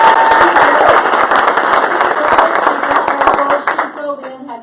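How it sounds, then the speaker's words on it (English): An audience claps loudly in a dense burst of many hands, the sharp slaps sustained before thinning out and fading toward the end. "can I have you give her the biggest loud round of applause again?"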